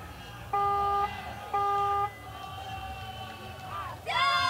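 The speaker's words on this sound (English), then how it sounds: "Chinese crowd, Chinese archery team supporting their girls." Chinese supporters at a junior world archery championship recurve women's team gold final in Rosario make a murmuring crowd noise, cut by two long, loud horn-like blasts and then a burst of rising, whistling tones, with faint voices underneath.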